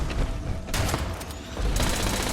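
Rapid gunfire rattles during a fight against an enemy in Fallout 76, loud sustained bursts of shots with brief gaps, close and dense, no talking.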